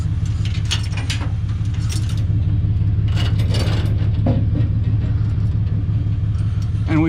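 Ratchet binders being cranked to tighten chains securing a truck for hauling, a run of close metallic clicking ratchet strokes over a steady low rumble of an idling engine.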